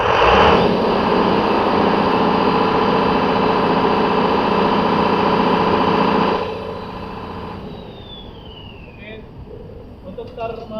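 A new Clarke diesel fire pump engine runs loud and steady during a commissioning test on its second crank starter, then cuts off abruptly near the six-second mark, leaving a quieter hum and faint clicks.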